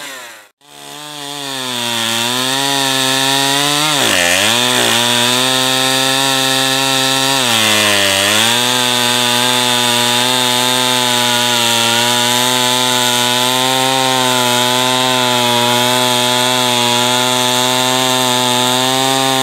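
A small, lower-powered chainsaw cutting wood runs loud and close at a steady high whine, dipping twice under load before holding a constant roar for the rest of the stretch.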